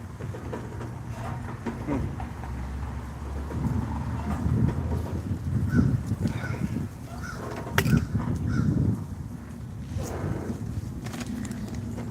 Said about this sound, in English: What up, Crow?